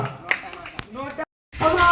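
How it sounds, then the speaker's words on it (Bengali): A group of people claps hands together at a Saraswati Puja gathering, with voices talking over the applause. The clapping stops abruptly for a brief silent gap, then resumes as a louder, denser burst. "সবাই হাততালি দাও।"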